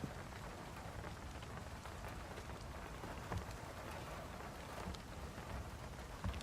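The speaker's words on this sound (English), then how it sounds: "the more generic hard raindrops that we heard before" Heavy rain in the video game Vampyr patters steadily on a surface, dense and continuous, with occasional louder drops and a low rumble underneath.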